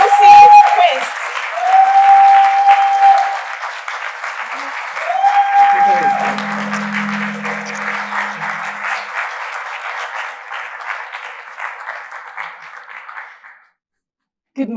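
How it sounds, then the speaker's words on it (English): Sustained audience applause welcoming a keynote speaker at a conference opening, loud continuous clapping with tonal music or chimes over it, tapering off before cutting to silence. "join me in giving a huge, enthusiastic, and well-deserved welcome and round of applause to the founder of the Bold New Normal, Lucy Quist."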